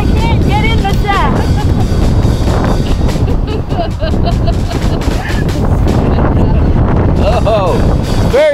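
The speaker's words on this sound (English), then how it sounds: "very windy out here." Wind blows hard outdoors, a constant loud rumble across the microphone, with birds chirping and people talking over it.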